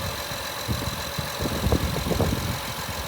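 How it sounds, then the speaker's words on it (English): A Honda truck engine with 225,000 miles idles steadily, a continuous low rumble with faint ticking and light irregular knocks, moderately loud and close, with no talking. "Listen to that engine."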